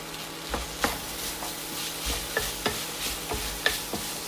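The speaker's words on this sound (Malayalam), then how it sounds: "ഇതും ലോ ടു മീഡിയം ഫ്ലെയിമിൽ വെച്ച് ഒരു 2 മിനിറ്റ് ഒന്ന് വഴറ്റിയെടുക്കണം." Coriander, turmeric and chili powders sautéing on low to medium flame for a kovakka curry, a soft steady sizzle broken by repeated scraping stirs and light clinks, close but quiet.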